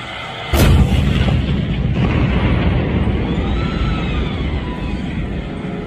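A toy steel tank fires off loud electronic gunfire and artillery effects, opening with a sharp blast and then a dense, steady crackle of booms close up, with no talk.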